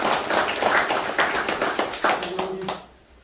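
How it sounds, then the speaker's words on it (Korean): A small group clapping briskly and close by for a few seconds, then the applause stops abruptly and fades into quiet. "박수 한번."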